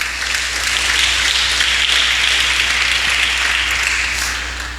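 A church congregation applauds during a midweek worship service, a steady wash of many hands clapping that holds evenly throughout before easing slightly at the end.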